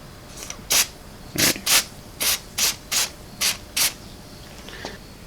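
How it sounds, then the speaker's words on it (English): Fluid Film anti-corrosion spray applied to a throttle position sensor on a 1987-1997 Ford 5.8L truck: about ten short, hissing spray bursts in an uneven rhythm, close and clear. "I'm going to give her a little shot of fluid film here to prevent corrosion"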